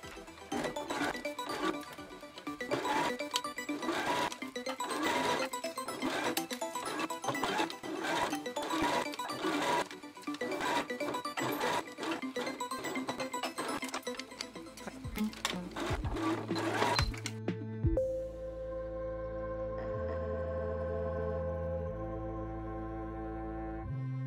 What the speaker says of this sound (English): We're going to stitch this with a 3/8 of an inch seam allowance to the notch